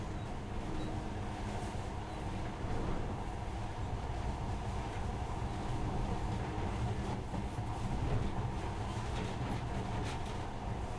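Monorail train in the game Metro Last Light running steadily, a continuous low rumble and rolling hum with faint rattles throughout, no talking.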